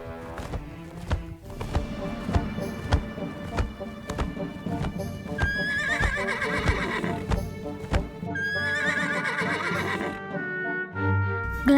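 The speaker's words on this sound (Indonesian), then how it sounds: "Glegek dan kuda sembrani." A cartoon winged horse neighs and whinnies repeatedly over a run of clip-clop hoof beats and bright musical sounds, loud and close.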